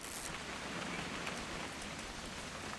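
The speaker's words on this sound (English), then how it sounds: "It's gonna rain the whole weekend, isn't it?" Steady rain from the video game What Remains of Edith Finch, a soft, even hiss of drops falling on surfaces that holds constant throughout, with no voices.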